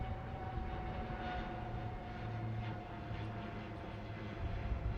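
A formation of Indian Navy aircraft flies past over a naval sail parade at Miramar in Panaji, Goa, a distant, steady engine drone rumbling faintly throughout.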